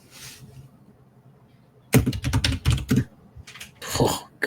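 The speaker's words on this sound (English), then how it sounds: "The sound of me slamming on this fucking keyboard." Hard, rapid typing on a computer keyboard, struck forcefully in loud clattering bursts after a quiet opening, with brief pauses between flurries of keystrokes, close to the microphone.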